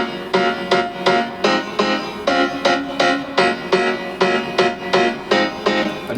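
A synth lead in an electronic music production plays a bouncy line of short, evenly spaced stabbed notes, about a dozen in a steady rhythm, bright and up front with no voice over it.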